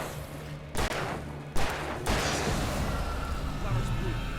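Alan Wake Remastered gunfire: a few sharp, loud shots cracking out at spaced intervals against a steady background hum, with a voice talking over the scene.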